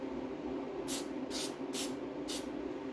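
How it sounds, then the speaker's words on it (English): Four short hissing bursts of a spray can onto a Triumph TR6 seat being recovered, evenly spaced, over a steady low background hum. "Bit of spray."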